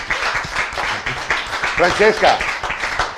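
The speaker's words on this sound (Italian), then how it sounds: "Fategli un applauso." Audience applause at a live event, a dense steady clapping from many people with cheers and voices mixed in throughout.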